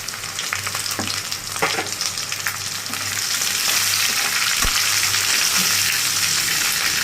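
Onion and garlic frying in oil in a pan for a dried-fish dish, a steady loud sizzle with occasional stirring scrapes, no talk.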